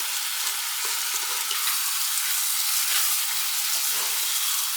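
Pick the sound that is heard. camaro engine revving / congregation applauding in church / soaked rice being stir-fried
soaked rice being stir-fried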